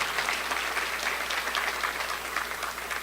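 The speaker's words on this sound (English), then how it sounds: "Let's give her another round of applause." Steady, dense applause from an audience at an evening teacher of the year celebration, a continuous wash of many hands clapping without pause, full and even throughout.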